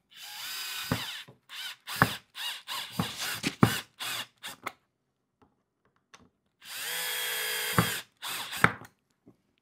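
A cordless power drill drives small screws into the legs of a rattan boho TV stand, with repeated short whirring bursts that stop and start, then one longer steady run near the end.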